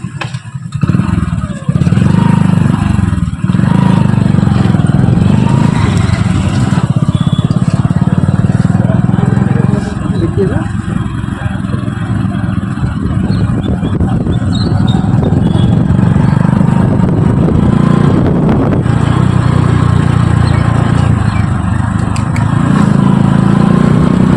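A motorcycle rides along a village road from Champadanga toward Chandrakona, its engine droning loud and continuous under heavy wind buffeting, with occasional rattles and shifts in engine pitch.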